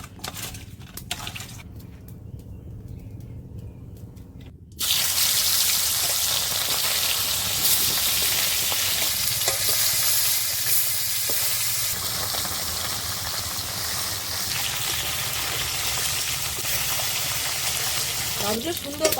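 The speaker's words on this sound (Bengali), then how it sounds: "মাছগুলো সুন্দর কড়কড়ে করে ভাজা হয়ে গেছে" Koi fish fry in hot oil in a home kitchen, a loud continuous sizzle that starts abruptly partway through and holds steady, after quieter handling noises.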